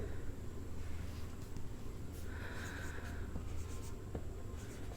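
A pen writes out a maths solution on paper or board, making faint scratchy strokes over a steady background hiss, close but quiet, with no clear talk.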